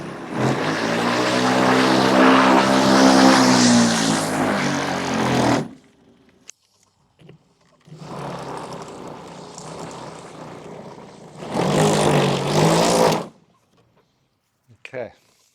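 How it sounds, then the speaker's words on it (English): Lawn Hog mulcher with a broken fan, its electric motor running in loud roaring bursts broken by short silences, with a rough, rattling drone close by. "Does your lawnmower sound like this?"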